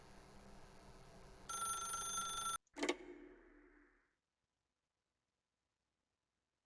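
A telephone in The Stanley Parable video game rings with a bright, loud electronic bell for about a second, then a short clatter and a decaying tone follow before the sound falls to silence.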